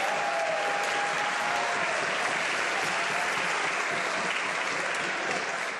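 Members of parliament applaud steadily in the House of Commons chamber during question period, a dense continuous wash of clapping that holds at an even level throughout with a faint voice underneath.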